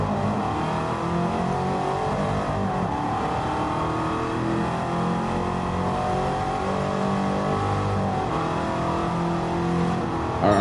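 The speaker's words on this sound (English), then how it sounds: "I need to see what the other cars sound like too" A car engine in a racing video game revs and drones steadily and loudly throughout, its pitch rising and falling with acceleration, with no talk over it.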